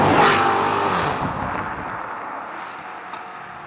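A Maserati GranTurismo engine revs hard as the car accelerates, a loud, full roar at the start that gradually fades and trails off into distance-muffled engine noise, with no talking.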